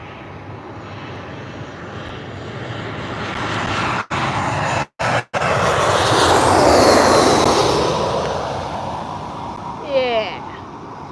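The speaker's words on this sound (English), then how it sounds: "And a pretty smooth landing from Jetstar." A Jetstar airliner from Sydney lands at Gold Coast airport on a wet morning, its broad engine roar swelling and fading over several seconds, with reverse-thrust rumble and a brief voice near the end.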